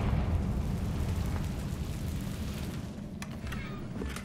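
A Confringo fire spell blasts in Hogwarts Legacy, a loud rumbling explosion with a deep, sustained low roar that fades slightly, followed by a few brief crackling pops near the end.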